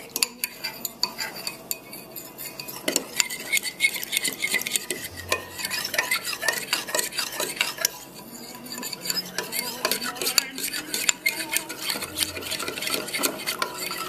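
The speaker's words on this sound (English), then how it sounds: "I've mixed this and gotten all the clumps off of the bottom of the bowl" A spoon stirs and scrapes a thick Vietnamese cha lua pork paste around a bowl, giving steady clinking and scraping close up for the whole stretch, with no voices.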